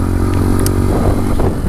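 A Bullit Hero 125 motorcycle engine revs steadily off-road, a loud, close, continuous drone with slight rises in pitch and no talking over it.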